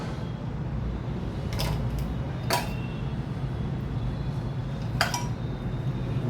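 A spoon clinks against a bowl while corn vada batter is mixed with poha and rice flour. There are three sharp, close taps over a steady low background hiss.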